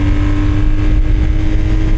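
A Harley-Davidson motorcycle pulls away on a cold ride with the windshield slightly open, its engine a steady, loud, close low rumble with a continuous hum, partly blended with wind.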